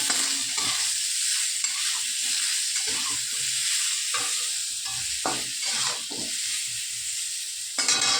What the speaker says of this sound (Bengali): নুন আর হলুদ দিয়ে দিলাম, এবার একটু ভাজা ভাজা করে নেব।